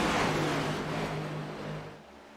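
NASCAR Cup Series stock cars at Darlington in a sim racing game, heard as a steady engine drone on reduced revs that fades slightly as the clip ends, with no voices.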